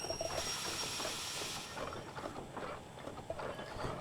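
A steam locomotive in a train video game rolls along with a steady hiss of steam and continuous rumbling rail noise, holding an even, fairly close level throughout.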